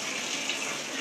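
Steady household water running at full flow from a tap into a bath or shower, a continuous broadband hiss that stays even and close throughout.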